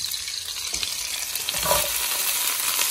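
Broccoli sizzles and crackles steadily in the same frying pan just used for chicken, with a close, continuous hiss and occasional stirring. No voices are heard.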